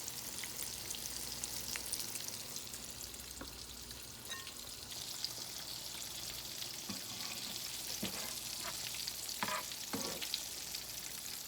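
Cornbread and onion fritters fry in a pan of hot oil, a continuous crackling sizzle with small pops and occasional sharper spatters as pieces are nudged around, steady and close with no talking.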